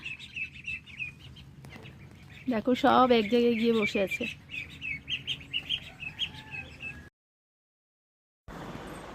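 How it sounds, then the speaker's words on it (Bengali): Ducklings peep in high, rapid chirps, with a close, louder burst of calls in the middle and a person speaking briefly over them. "হাঁসের বাচ্চা আনা হয়েছে"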